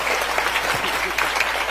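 Audience applause at an Eid al-Fitr sermon, a steady wash of clapping from a crowd holding at an even level throughout without a break.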